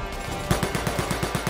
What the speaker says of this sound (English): Burst fire instead of full automatic. Burst fire lets you hit farther away.